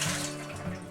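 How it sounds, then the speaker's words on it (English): Water pouring steadily into a pressure canner fitted with a jar rack, a continuous hollow splashing rush, close and moderately loud, over a brief moment with no voices. "And 3 cups of water."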